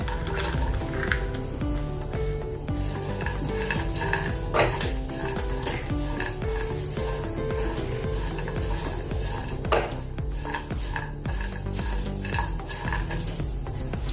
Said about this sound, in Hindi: अभी इसके बाद हम इसमें मूंगफली डालेंगे।